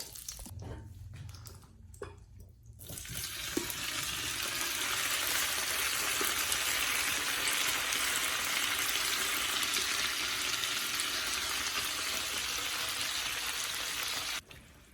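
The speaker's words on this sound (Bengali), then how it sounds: "এখন আমি এর মধ্যে গোষ্ঠটা ঢেলে দেব" Beef tips into a hot pan of butter and oil after a few clinks and a short splash, then a loud, steady sizzle of frying holds for several seconds before ending abruptly.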